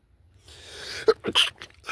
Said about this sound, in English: Sneeze confirmation I'm feeling.